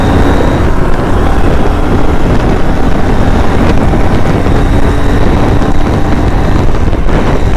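Honda Shine SP motorcycle cruising on a highway in hot weather, its engine buried under loud, constant wind rush that stays even and unbroken throughout.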